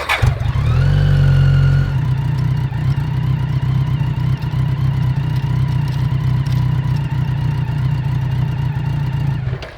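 A 1000cc mini trophy truck with a stuck, apparently broken transmission: the engine revs hard at first, then holds a loud, steady, strained drone at one pitch for several seconds before cutting off.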